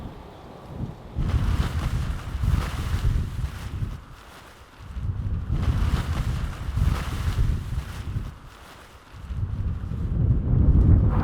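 Wind gusts across a KOA campsite in Tucumcari, New Mexico, in loud rumbling buffets against the microphone that surge, drop off briefly and return.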